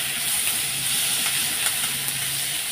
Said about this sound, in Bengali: একটু কষিয়ে নিই, মানে ভেজে নিই লাল লাল করে।